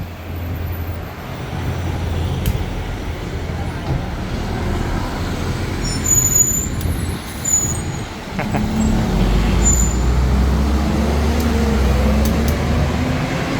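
Busy street traffic in Bangkok's Chinatown during Lunar New Year, a steady roar of cars, buses and trucks with a rising engine rumble, faint hisses and light clatter, no voices.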